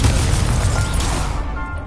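Loud spell blast from a Confringo cast in the video game Hogwarts Legacy, a dense booming burst of crackling impact that fills the whole clip before tailing off slightly near the end.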